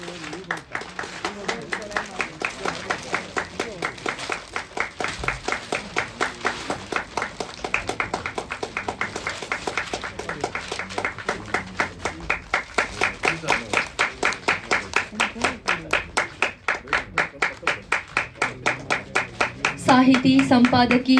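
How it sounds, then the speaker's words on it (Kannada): An audience at a song release ceremony applauds in a steady, sustained burst of clapping that lasts throughout, fairly loud and dense, with a brief tonal sound near the end. "ನಮ್ಮ ಟೀಮ್ ದಯವಿಟ್ಟು ಜೋರಾಗಿ ಚಪ್ಪಾಳೆ ಬರಲಿ"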